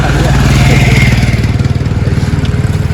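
A motorcycle engine idles loudly and close by, with a steady, pulsing putter throughout.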